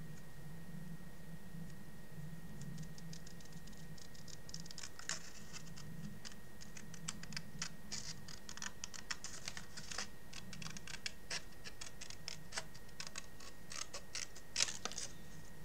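Scissors cutting paper while crafting a pop-up album page: a run of soft, irregular snips and clicks, sparse at first and then denser, close and quiet over a low background hum.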